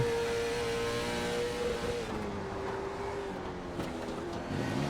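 A race car engine from a video game drones steadily on a final qualifying lap in an amateur LMS league race at Concord. Its pitch sags gradually as the car eases off.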